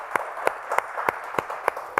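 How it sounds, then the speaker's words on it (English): Sparse applause at a youth awards ceremony, Boys and Girls Club Youth of the Year event, about seven separate claps in a steady rhythm, fairly quiet and close, like a single person or a few people clapping. "Big round of applause."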